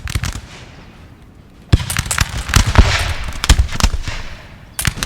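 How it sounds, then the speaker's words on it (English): Prussian artillery and musket fire crackle in the Battle of Paris of 1814 in Napoleon Total War, sharp bursts popping in rapid irregular clusters, loud and close with short pauses between volleys. "They're also just getting hit hard by Prussian artillery"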